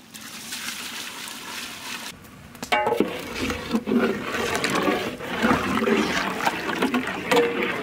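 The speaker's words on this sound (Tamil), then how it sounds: "தண்ணி" Water is poured into Chettinad egg paniyaram gravy, giving close, loud splashing and trickling that surges after a brief pause and keeps sloshing unevenly.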